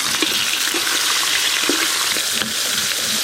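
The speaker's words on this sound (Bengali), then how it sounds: "এবার ইলিশ মাছের মাথাগুলো ভালো করে ভেজে নেব।" Hilsa fish heads fry in hot oil in a pan, giving a continuous loud crackling sizzle with occasional sharper pops and spatters throughout.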